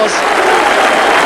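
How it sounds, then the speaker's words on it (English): A football stadium crowd roars and applauds after a Barnsley goal, a loud, dense wash of cheering and clapping from a large crowd that fills the whole moment. "And Gerald Taggart takes the applause."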